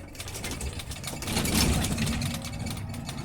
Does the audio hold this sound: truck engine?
yes